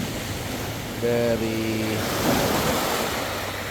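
Waves crash steadily on a beach at Labuan, Zamboanga City, a constant loud roar of surf with wind buffeting the microphone, while someone speaks briefly over it.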